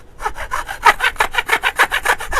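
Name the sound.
saw making a cross cut on long wood stock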